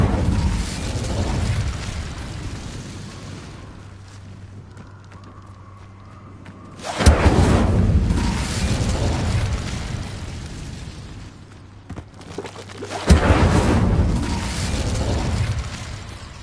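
Fiery Incendio spell blasts from the Hogwarts Legacy video game, two loud bursting booms erupting several seconds apart over a rumbling, noisy game background.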